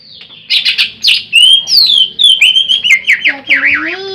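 A green leafbird sings up close, loud and varied, with rapid whistled phrases, chirps and warbling trills tumbling one after another in a busy, continuous stream.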